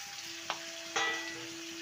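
Eggplant and drumstick vegetables fry in a pan with a soft, steady sizzle, broken by two quick scraping stir sounds of a spatula; faint and close, with no speech.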